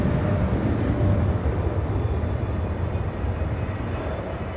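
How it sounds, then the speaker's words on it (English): A jet airliner rolls down the runway on takeoff at LAX, a steady, loud, broadband engine roar that stays close and continuous throughout, with no voices. "the takeoff is already rolling down the runway"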